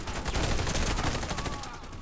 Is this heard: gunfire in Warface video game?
yes